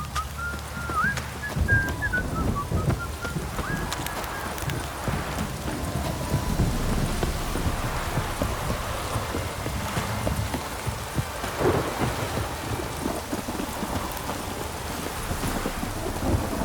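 Steady rain pours with rumbling thunder during a storm in The Witcher video game, a dense, continuous wash of sound with occasional horse hoof clops and no talk.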